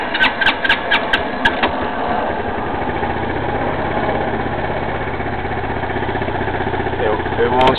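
A 260cc scooter engine with a carburetor fault idles in a steady low putter, preceded by a few sharp clicks, while someone talks over it.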